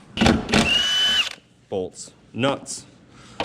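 Ryobi power drill removing strut nuts on a 2004 Toyota Camry, two loud close bursts of whirring, the second held for about a second, followed by someone talking.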